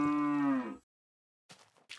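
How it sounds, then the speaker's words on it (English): A single long, low cow moo from Minecraft sounds clearly and up close, then fades into silence, followed by a couple of soft, brief noises. "Get to listen to the cows the whole episode."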